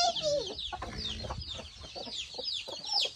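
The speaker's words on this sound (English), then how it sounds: "Dami silang manok dito." Chickens cluck close by on a farm, a busy run of overlapping clucks and chirpy calls that carries on steadily without pause.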